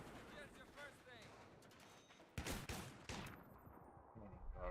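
Shotgun fire in the Battlefield 3 video game on PS3 comes as several loud, close blasts amid dense battle noise, with a voice talking over the action.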